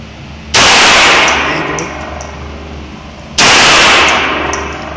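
Two loud gunshots at a shooting range, close by, each a sharp blast followed by a long ringing decay, spaced about three seconds apart, with no talking in between.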